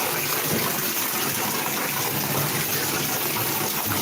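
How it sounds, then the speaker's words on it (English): Steady rushing of water pouring into a bathtub, a continuous broadband gush that stays loud and even throughout. "Pardon the noise here. Got the tub running."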